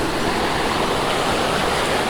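A tiered waterfall beside a walking path at Huay Nam Sai village in Suan Phueng, Ratchaburi, Thailand, makes a constant, full, close rush of falling water with no break.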